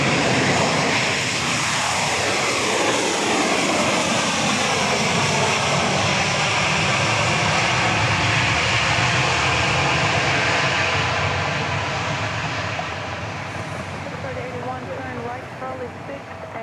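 A jet airliner roars at Dallas Love Field, a loud, sustained engine rush with a slowly shifting pitch that gradually eases toward the end, with no talk over it.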